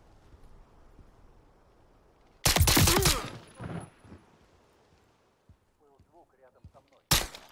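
Bursts of gunfire in the Call of Duty: Modern Warfare 3 campaign, a loud dense volley of shots lasting over a second, then quieter scattered sounds and another sharp burst at the end.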